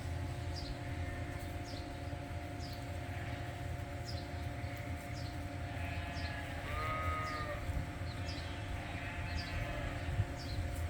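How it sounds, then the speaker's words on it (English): Ewes bleating in a grazing field, several calls spread over the clip at moderate distance against a constant low outdoor rumble, with birds faintly chirping. "All you need to mow down a field is a bunch of hungry ewes."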